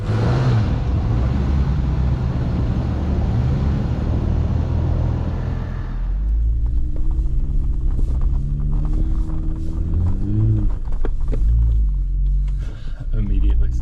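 A vehicle stuck in snow revs and rumbles as it tries to back up, its engine droning loudly and steadily throughout, with the pitch shifting partway through as the driver works the throttle, while people talk over it.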